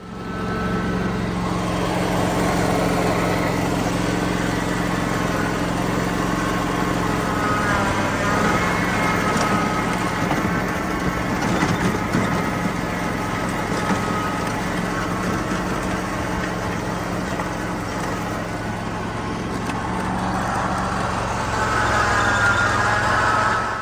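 A Canycom Masao F1 four-wheel-drive ride-on mower runs steadily while weeding an apple orchard, its engine a continuous close drone with a low hum that swells slightly toward the end, no speech over it.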